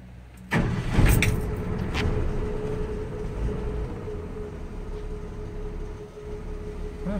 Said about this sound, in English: Here's the cold start. Better give her some choke.